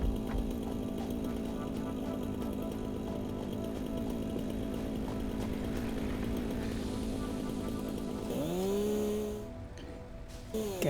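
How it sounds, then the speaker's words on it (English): Chainsaw in the video game Satisfactory, a steady droning engine buzz held for several seconds, then revving and winding down with a falling whine near the end, fairly loud and close with no talk. "I'll just make 20 for now so that I can use the chainsaw"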